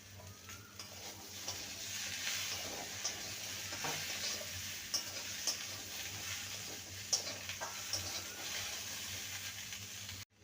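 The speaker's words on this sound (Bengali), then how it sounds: "এবার ভেন্ডিগুলো আলুর সাথে ভেজে নেবো" Okra and potatoes frying together in oil in a pan with a little turmeric, a steady close sizzle with scattered scraping clicks of stirring throughout, no talking.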